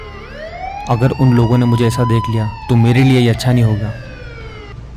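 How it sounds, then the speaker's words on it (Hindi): A police siren wails steadily in the background, rising and holding its pitch, while a person speaks loudly over it. "बाहर पुलिस के आने की आवाज़ सुनकर"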